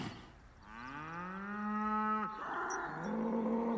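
A cow moos in the Baldur's Gate 3 video game, one long, loud, close bellow that rises and then breaks off, followed by a shorter, lower second moo.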